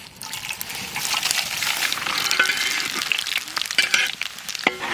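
Whole coriander, cumin, bay leaves and whole garam masala tempering in hot mustard oil for a village chicken curry, a bright crackling sizzle with scattered sharp pops, steady and close throughout.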